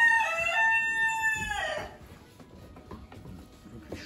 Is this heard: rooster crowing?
yes